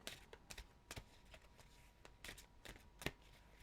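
Cards shuffled in several quick riffling bursts, crisp and close, with short pauses between them and no talking.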